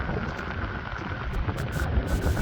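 Rain falls on a rural coastal road beside onion fields during a bike camping trip in South Korea. A steady, dense hiss, roughened by wind buffeting the microphone, fills the whole stretch with no talking.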